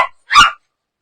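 Two sharp, close barks from a dog in a cage at a pet market, a short yelp followed by a louder single bark, then silence.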